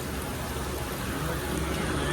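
Steady rain falls outside a company building in Morbi, a dense, even hiss that holds at the same level throughout with no breaks.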